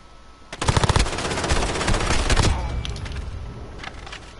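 MP7 submachine gun firing in the video game Modern Warfare: a loud, close burst of rapid automatic shots lasting about two seconds, followed by fainter distant gunfire.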